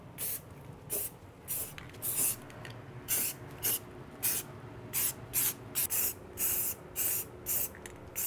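Short bursts of spray paint hissing onto old baseboard heaters as they are primed, a rapid irregular series of close, loud sprays separated by brief pauses.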